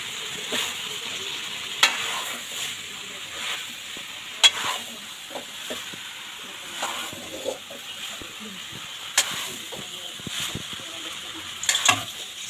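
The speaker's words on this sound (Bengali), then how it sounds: "এবার দিয়ে দেবো কপিগুলো, ভেজে রাখা ফ্রাই করা ফুলকপি।" Fried cauliflower sizzles in a pan, a quiet steady hiss broken by sharp clinks and scrapes as it is stirred, heard close up with no talk.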